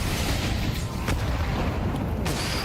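A grenade explodes in a Counter-Strike esports match, a dense rumbling boom filling the low end and holding steady across the whole short stretch, with sharp bursts near the middle and end and no talk.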